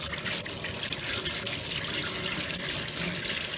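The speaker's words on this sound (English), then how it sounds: "We'll wash all the cure off." Cured fish rinsed under a running tap to wash off the cure, a steady close stream of water splashing into a sink without pause, no speech.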